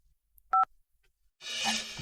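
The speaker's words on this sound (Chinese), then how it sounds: "顾董，大小姐来电话了，我这就转接。" A telephone gives one short two-tone keypad beep as a call is put through. A moment of near silence follows, then a burst of steady hiss and line noise.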